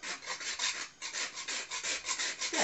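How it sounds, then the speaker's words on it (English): Whole nutmeg is rasped over a grater into a chicken patty mixture, giving a close series of quick scratchy strokes in an even back-and-forth rhythm. "we're going to go ahead and add nutmeg. Yeah, and we're just going to give it a few grates"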